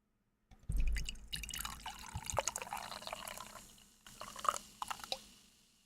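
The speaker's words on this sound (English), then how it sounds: "Can we hear the bubbles?" Fizzing bubbles in a freshly opened canned drink, a steady close crackle and drip-like patter lasting several seconds before fading.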